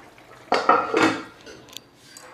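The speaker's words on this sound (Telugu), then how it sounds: "కొంచెంసేపు మూత పెడదాం." A lid clinks down onto a pot of simmering sambar in a home kitchen, a couple of close metallic clatters followed by a faint rattle as it settles.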